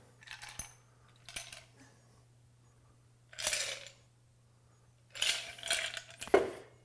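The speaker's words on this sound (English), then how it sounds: "Strain this into our glass." A Sherman cocktail is strained into a glass, heard as several separate bursts of bright clinking and rattling ice against metal and glass, spaced by quiet gaps, close and alone without talk.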